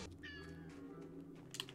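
A short cat meow rising and falling in a fantasy role-playing game, heard once near the start over a steady low ambient hum, with a faint brief chirp toward the end.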